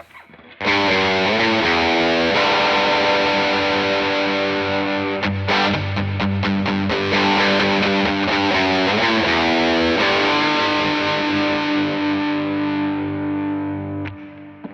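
A Telecaster on the bridge pickup through an overdrive pedal with gain maxed rings out with thick, saturated distortion, chords sustaining loudly and decaying slowly toward the end.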